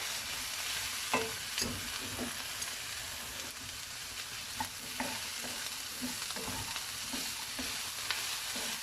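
Chopped cabbage stirred in a pot for seafood chowder, with a soft steady sizzle and a series of scraping, clattering spoon strokes at irregular intervals, close and moderately loud, without talk.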